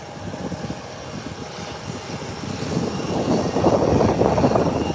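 An aircraft at Howard Hamilton International Airport in the Turks and Caicos, a steady engine rumble that swells louder over the last seconds, heard from a distance with no talk.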